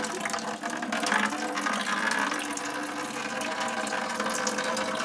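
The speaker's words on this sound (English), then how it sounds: "I guess all is going to drain out of this tank here." Water draining from an old boiler tank into a bucket, a steady hissing splash of flowing liquid, close and even throughout with slight fluctuations, no speech.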